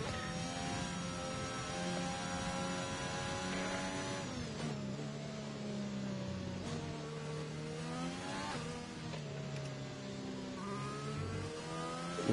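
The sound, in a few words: race car engine on track, from a racing video game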